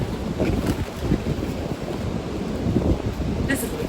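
Strong gusty wind buffets the microphone in an outdoor garden, a loud rushing roar with surging gusts and no other sound standing out.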